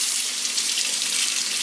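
Cold water pours in a steady, close hiss into a tourtière batter mix of egg, a continuous splashing stream with no talk.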